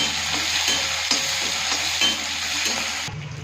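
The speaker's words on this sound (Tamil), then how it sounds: "கூடயே கருவேப்பிலையும் சேர்த்துக்கலாம். இதுவும் நல்லா வறுத்துக்கலாம்." Curry leaves frying in hot oil alongside a handful of garlic in a pan, a loud steady sizzle with soft stirring scrapes throughout, cutting off near the end.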